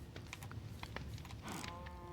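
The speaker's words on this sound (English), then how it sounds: "Those are some cows." Cows moo in Minecraft, a short low bovine call rising out of soft game background sound, fairly quiet and with no speech.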